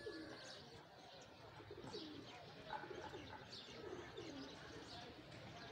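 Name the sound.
pigeons cooing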